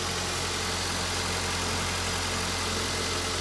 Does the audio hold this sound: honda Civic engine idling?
yes